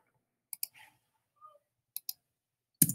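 Computer mouse and keyboard clicks in a quiet room: a few sharp, close taps come in pairs, with a soft faint rattle between them and a louder clatter of keys at the end.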